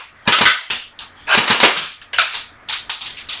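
An airsoft AK-47 rifle firing BBs on automatic, four rapid snapping bursts close by in a room, each a quick rattle of shots separated by short pauses.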